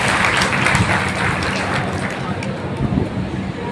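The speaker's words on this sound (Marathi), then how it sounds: "सारिका सोबत आणखी सगळी टीम या सर्वांच्यासाठी एकदा आपण टाळी वाजवून त्यांचं कौतुक केलं पाहिजे" An audience at a festival gathering in Bhusawal applauds, a dense, steady wash of clapping filling the whole stretch, fairly loud and continuous, tapering slightly toward the end.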